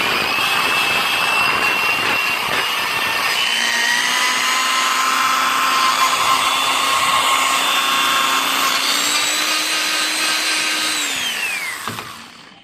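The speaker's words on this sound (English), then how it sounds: "Get yourself a drill with a wire wheel." A drill spinning a steel wire wheel brushes grease off a 1965 Ford Mustang part, a loud steady high whine with rasping scrub that holds for about eleven seconds, then winds down and stops.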